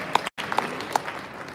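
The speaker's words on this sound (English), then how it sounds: "Let's give a round of applause for that" Applause from the audience at a boxing fight-week press conference, a short burst of dense clapping with a few sharper claps, briefly cut off near the start.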